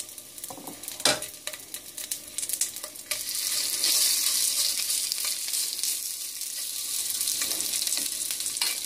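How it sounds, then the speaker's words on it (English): Chicken sizzles and fries steadily in a skillet during a chicken and broccoli stir-fry, a dense hiss that swells louder after a few seconds, with occasional clinks of a utensil stirring. "Once you hear that sizzling, you're in business."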